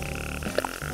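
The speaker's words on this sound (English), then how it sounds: "there's Camel Frog living his best life" A frog croaks in an outdoor garden setting, giving a few short, close, fairly loud calls over a steady background of layered tonal sound.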